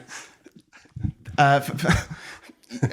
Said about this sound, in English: there is a small dog on the edge of the screen